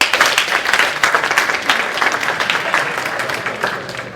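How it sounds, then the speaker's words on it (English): A conference audience at a Metaverse United event on virtual and augmented reality claps for a departing presenter: dense, sustained applause, loud and close at first, then tapering slightly toward the end. "one more French clap for Nick Mitham"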